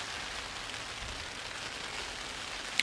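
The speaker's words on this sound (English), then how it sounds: "I love the sound of the rain." Steady patter of rain falling on a plastic grow house at an allotment, a dense even hiss of drops close by with no voices.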